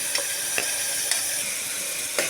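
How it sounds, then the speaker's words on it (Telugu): Onions, green chillies and ginger-garlic paste fry in oil with a constant close sizzle, broken by a few soft stirring scrapes. "ఇప్పుడు ఉల్లిపాయలు లైట్గా వేగనివ్వాలి"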